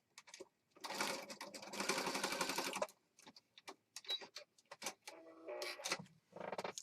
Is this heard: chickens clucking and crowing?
no